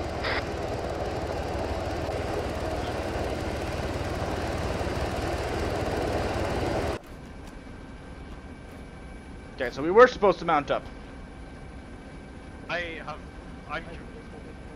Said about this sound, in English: couldn't entirely hear over the goddamn helicopter drowning me out